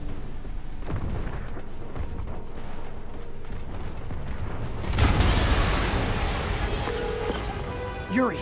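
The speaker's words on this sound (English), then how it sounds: "an explosion just... I saw it" A massive explosion erupts suddenly in the Spider-Man video game, a loud broad roar that bursts in after tense quiet and rumbles on for several seconds with crackling debris.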